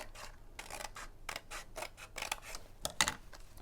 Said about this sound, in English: Now you carefully cut along that crease you've created.